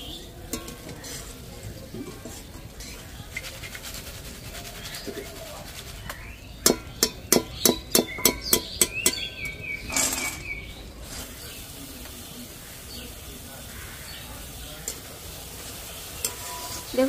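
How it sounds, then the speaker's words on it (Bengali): Red boondi made from gram flour batter fries in oil with a steady low sizzle, while a slotted spoon taps sharply on the pan in a quick run of about eight knocks midway, followed by scraping and stirring. "এবার লাল রঙের বোঁদেগুলোও ভেজে নেব একইভাবে।"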